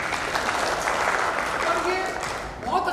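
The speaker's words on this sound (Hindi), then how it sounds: "थोड़ी सी ताली हो जाए इनके लिए।" Audience at a seed company dealer meet applauding in a thick, continuous burst before the clapping thins out and a voice comes in near the end.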